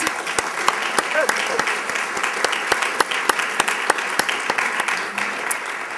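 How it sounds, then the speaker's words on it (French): Audience at a volunteer honours award ceremony in Longueuil applauds with steady, fairly even clapping that carries through the whole stretch, moderately loud in a hall with no other sound standing out. "Applaudissons-les tous."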